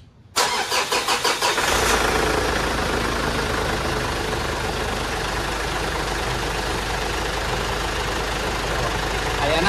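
A turbocharged car engine cranks with a few rapid starter pulses, catches and settles into a loud, steady idle with a deep constant hum.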